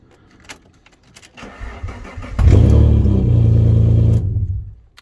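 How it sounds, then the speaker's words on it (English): Alfa Romeo 156 engine cranks after a few faint clicks and shuffles, catches with a loud burst, then settles into a steady running note for a couple of seconds before fading, heard close by. "The vehicle's starting."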